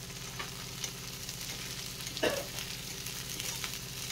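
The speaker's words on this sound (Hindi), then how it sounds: "एबे मु कैप्सिकम को पकई दउची भल से पकई की घांटी दउची" Green capsicum frying in a pan for paneer chilli, a steady close sizzle with light stirring scrapes and one sharper clatter partway through.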